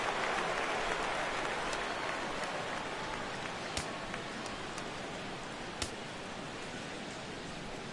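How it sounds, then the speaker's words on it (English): Steady rain hiss over a baseball stadium during the sixth inning of a Cubs at Cardinals MLB video game, continuous broadband patter with two sharp ticks, no talk. "Rain continues to fall here in the 6th."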